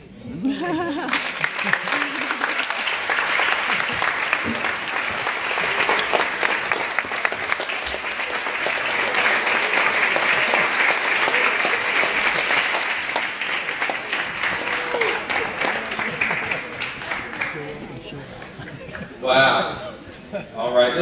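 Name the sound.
audience applause for Dr. Akbar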